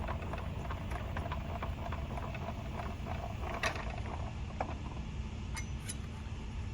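A DeWalt table saw's blade height crank is turned all the way up, giving a steady run of small mechanical ratcheting clicks and gear whirs, close and fairly constant, with a few sharper ticks and no talk.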